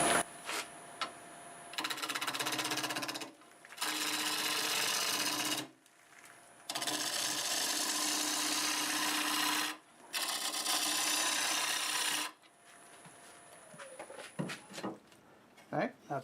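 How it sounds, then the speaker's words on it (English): A 5/8 bowl gouge cutting a wood blank spinning on a lathe at 950 RPM, giving loud, sustained rasping bursts of a few seconds each, separated by short pauses, then lighter scattered scraping at the end. "I've got a 5/8 bowl gouge doing 950 RPM"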